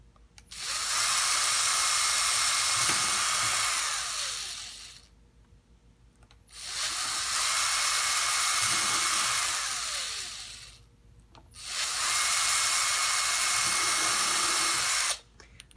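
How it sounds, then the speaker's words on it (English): Power drill boring vent holes into an arcade cabinet panel, three long loud bursts of steady whining drilling, each lasting several seconds and separated by short pauses. "So I'm gonna go ahead and drill that in."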